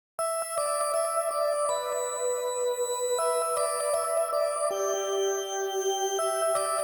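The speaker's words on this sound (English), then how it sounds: "the DX27 for my organ lead." A bright, sustained DX27 synthesizer organ lead plays steady chords with ringing upper harmonics, a clean electronic tone held without pause.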